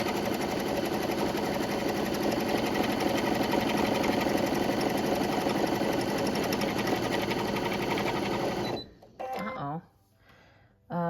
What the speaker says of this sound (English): gonna go ahead and stitch this zipper in place. And it does like a, I guess kind of like a triple stitch